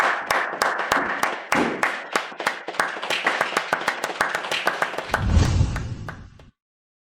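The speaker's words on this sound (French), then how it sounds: "Une salle d'applaudissements, s'il vous plaît." A small group claps at a formal gathering, crisp individual hand claps in a quick irregular rhythm, close and fairly loud, with a low rumble joining near the end before stopping abruptly.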